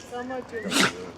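A brief voice-like murmur, then a single sharp, breathy dog sneeze burst close by.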